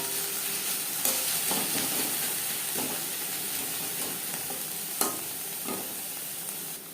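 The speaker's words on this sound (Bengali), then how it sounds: "পেঁয়াজ ভেজে নেওয়ার পর দিয়ে দেবো 1 চা চামচ আদা ও কাঁচা লঙ্কার পেস্ট।" Onions frying in oil with ginger and green chili paste for a katla fish and eggplant dish, a soft continuous sizzle broken by occasional spatula knocks and stirring scrapes, close and alone.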